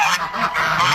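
Geese honk repeatedly in a short, continuous burst of overlapping calls, fairly loud and close.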